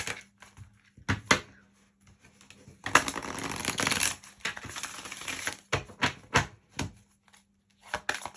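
Energy oracle cards are shuffled by hand in a close, crisp flurry of riffling lasting about a second, with scattered card taps and handling sounds before and after, and no talking.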